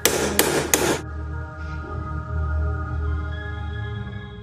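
A silversmith hammers metal with three sharp, ringing blows in quick succession, close and loud, followed by a lingering metallic resonance over a low room hum.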